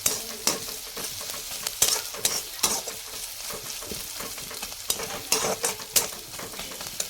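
Chopped onions frying and sizzling in hot oil in a pan for a papaya dish, with steady crackle, repeated stirring scrapes and occasional utensil clinks, close and fairly loud with no talk.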